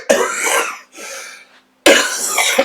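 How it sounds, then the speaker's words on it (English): Three harsh, raspy coughs in quick succession, close and loud, with a short pause before the last one. "I'm sorry, excuse me about the coughing."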